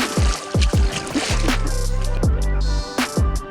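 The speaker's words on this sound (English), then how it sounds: "You keep paddling." A canoe is paddled on a lake in Algonquin Provincial Park, with repeated splashy paddle strokes and drips alongside a buzzing hum, close and fairly loud, roughly one stroke every half second.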